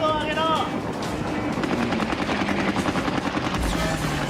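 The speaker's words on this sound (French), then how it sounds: "Les nouveaux canons anti-aériens font leur possible." Anti-aircraft guns on the Japanese battleship Yamato fire rapid bursts at American aircraft, with dense machine-gun rattles and engine drone beneath someone speaking French.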